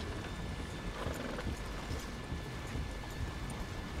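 Horse hooves clip-clop steadily as the animal trails behind its rider in Red Dead Redemption 2, mixed into a dense, even wash of outdoor ambience at low volume.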